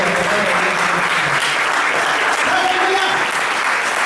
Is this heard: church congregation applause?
yes